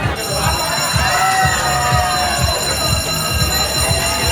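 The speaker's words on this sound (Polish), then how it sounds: "Alarm." An alarm rings continuously with a sustained metallic tone over a rhythmic low thumping, steady throughout.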